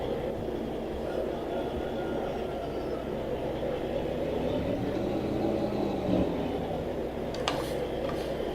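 Tractor engine in Farming Simulator 2013, a steady low droning hum that runs throughout at moderate level with a slight swell midway and faint clicks near the end.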